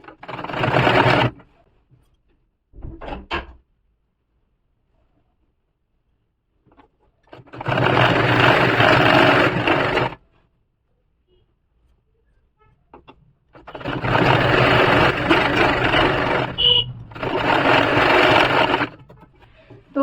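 A sewing machine stitches piping onto the side slit of a kurti, running in several loud, steady bursts of a few seconds each with short pauses and quiet gaps between them.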